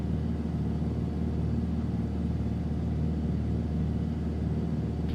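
A Cessna 210 piston engine idling as the plane taxis from midfield hangars toward the run-up area, a steady, close, low rumbling drone with no talk.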